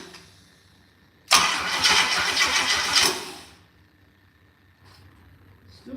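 A gasoline motor in a garage bursts into a loud, rough roar for about two seconds, then drops away to quiet with faint ticking afterward.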